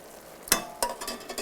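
Broth ladled into mushroom risotto in an Emile Henry pot gives a sharp liquid splash and sizzle, followed by a second pour and soft stirring, close and alone.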